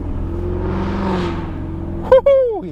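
Shelby Ford GT350 Mustang engine under acceleration on a test drive, a steady droning rumble from inside the car that builds slightly, then an excited voice whoops near the end.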